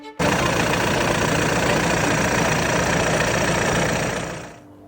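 A 2-litre TDI diesel engine in an Audi A3 idles roughly, a steady close clattering drone with knocking that runs unbroken for several seconds, then fades out as it shuts off.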